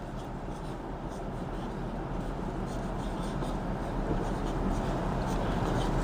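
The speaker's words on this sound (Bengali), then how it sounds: "তাহলে ওটা লিখছি দেখো" Pen writing on paper, a soft continuous scratching at close range, steady and fairly faint with slight rises in intensity.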